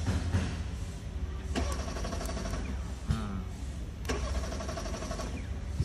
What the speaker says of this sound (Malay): Nanti dengar bunyi starter.